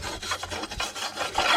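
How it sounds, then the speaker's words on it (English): A coarse wire brush scrubs flaky paint off a rusty step bracket on a Jayco motorhome, a close, steady rasping of repeated strokes with no talk. "Now I'll just get all this flaky paint off with this nice coarse wire brush."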